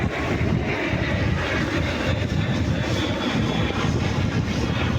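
Fixed-wing airplane engine roar flying overhead at night near Patan, a steady broad rumble holding loud and constant throughout with no voices.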